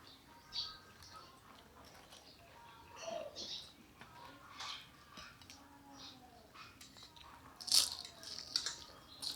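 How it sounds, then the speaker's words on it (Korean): Crunchy bites of a fried snack such as cheese-stuffed fried chili peppers, a handful of crisp crackling crunches scattered among quieter chewing, close to the microphone. "바삭하는 소리가 아주 맛있게 들리네요"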